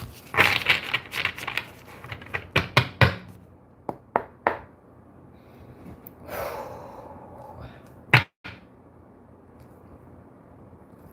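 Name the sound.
shuffling tarot cards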